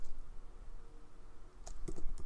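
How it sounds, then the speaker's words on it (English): A Linux command is typed on a computer keyboard, a few crisp key clicks close by near the end after a quiet stretch. "you do that by typing apt-get"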